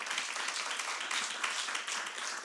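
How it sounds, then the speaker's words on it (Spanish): Loud, dense applause from a conference audience for a panel at a public innovation session, a sustained wash of many hands clapping without a break. "Quiero que les darle un aplauso fuerte a nuestro panel,"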